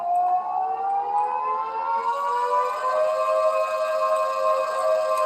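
A ship's steam siren in the game Stormworks sounds one long, loud, steady wailing blast that rises slightly in pitch and holds for several seconds, alone without talk.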